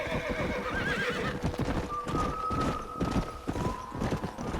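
A video-game horse clip-clops steadily near a corral and lets out a drawn-out whinny partway through, hoofbeats continuing throughout at close range with little talk.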